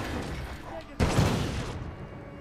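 Gunfire in the video game Titanfall 2 breaks out as a loud, dense burst of shots about a second in and then tapers off, mixed under ongoing game noise.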